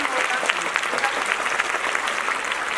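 An audience at an annual function applauds with dense, lively clapping that stays steady and fairly loud throughout, with faint voices mixed in.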